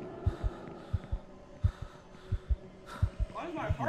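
A steady thumping heartbeat in a horror video game, paired double beats repeating at a regular pace over a low droning ambience, with a rustle near the end.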